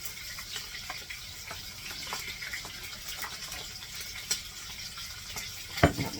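Soup is poured over pork chops in a hot pan, a soft continuous hiss and sizzle with faint splashing and a sharp clink near the end, moderately close and without speech.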